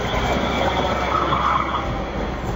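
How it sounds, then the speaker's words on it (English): Light rail commuter train rolling along its tracks, a steady, loud, continuous rumble with a broad hiss throughout and no voices. "light rail trains can transmit noise and vibration into buildings located"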